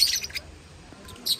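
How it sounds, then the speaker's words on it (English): Bird calls from a parrot at a zoo enclosure, short bright chirps in two bursts at the start and end with a quiet gap between, moderately near. "Some type of parrot, though."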